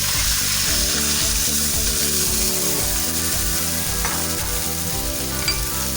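Yakhni stock is poured into sizzling beef biryani masala in a pot, a steady loud frying sizzle with stirring scrapes and bubbling throughout, no talk.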